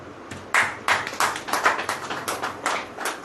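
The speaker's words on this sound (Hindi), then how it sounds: "ताली बजाओ।" Scattered hand claps from a church congregation at a sermon, a dozen or so uneven claps over a few seconds, fairly close, without speech.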